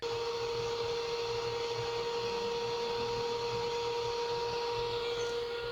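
A Ninja Foodi pressure cooker steam fryer's fan runs with a loud, steady whooshing drone and a constant high whine, unbroken throughout.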